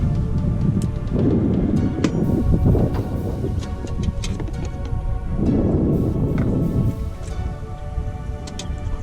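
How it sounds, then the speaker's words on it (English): Thunderstorm with rain during a catfish fishing outing at Lake Arthur: a steady wash of rain and wind with two broad rolling rumbles of thunder swelling and fading, close and loud throughout. "Here comes the rain."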